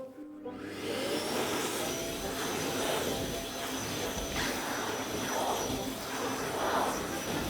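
A vacuum cleaner runs steadily during house cleaning, a loud continuous motor whine and airflow roar that starts within the first second and holds for the rest of the clip, with surging as the head moves.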